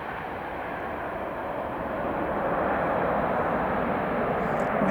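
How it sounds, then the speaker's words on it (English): A jet airplane landing at Arlanda Airport, Sweden, roars steadily overhead, a broad continuous rumble that slowly grows louder as it comes in. "I love how straight the planes are when they land."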